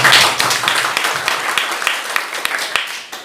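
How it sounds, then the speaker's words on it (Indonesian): A church congregation at a graduation service for a fourth-year class breaks into lively applause, with loud clapping at first that gradually eases. "Kita berikan tepuk tangan buat angkatan."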